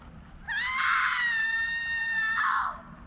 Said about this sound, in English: That's a real scream from a real person there.